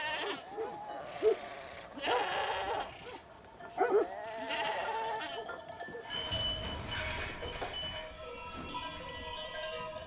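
Several goats bleat in overlapping calls, fairly close, in the Serra da Estrela mountains, against an outdoor background of faint rustling and a distant bell.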